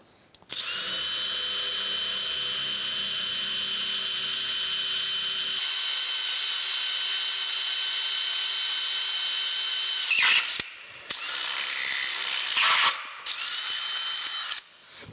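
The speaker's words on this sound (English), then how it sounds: "This is a 3-speed drill that I've got." A three-speed electric drill boring a hole in metal whines steadily at high pitch for a long stretch, with a lower grinding layer early on, then stops and restarts in short bursts.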